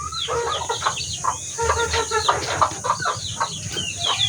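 Chickens kept in cages cluck and chatter close by, a busy overlapping run of short clucks and squawks, fairly loud and without speech.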